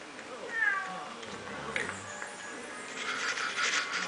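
A cartoonish cat meows in the video game LEGO Harry Potter, several short mewing calls over a steady game soundscape, with brief snippets of voice and a busier burst of game sound near the end.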